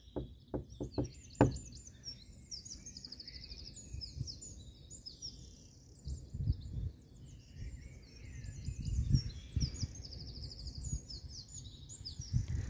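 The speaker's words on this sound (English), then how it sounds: "if I knock on the door, could you knock back?" Several sharp knocks on a door during a ghost hunt, four quick raps close together at the start, followed by quiet room tone with faint birdsong chirping in the background.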